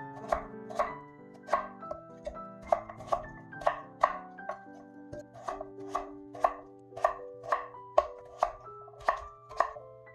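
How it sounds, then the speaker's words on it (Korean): A knife chops radish into cubes steadily on a cutting board, about two dozen crisp, evenly spaced strokes close by, with music playing softly underneath. "1cm 두께로 썰고 다시 1cm 크기로 썰어요."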